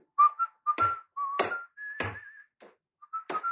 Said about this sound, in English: that fella there, whistling